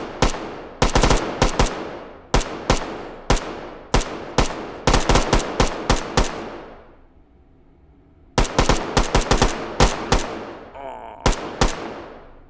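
Rapid bursts of automatic gunfire from armored and unarmored fighters battling in the VR shooter H3VR, loud sharp volleys in quick clusters with ringing decay, a brief lull midway, then renewed firing.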